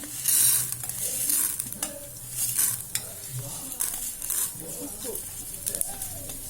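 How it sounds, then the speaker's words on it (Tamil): Asafoetida fries in oil with a light sizzle and bursts of crackling, while a spatula stirs and scrapes the pan and a voice talks over it. "பெருங்காயத்தையும் இந்த எண்ணெயிலே போட்டுருணும்"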